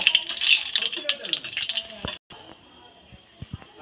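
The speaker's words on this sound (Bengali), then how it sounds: "শুকনো লঙ্কা আর পাঁচফোড়ন তেলের মধ্যে ভালো করে ভেজে নেব।" Dried red chillies and panch phoron sizzle in hot oil, a bright, steady crackling hiss with small pops that fades as the stirring stops, followed by a few soft clinks.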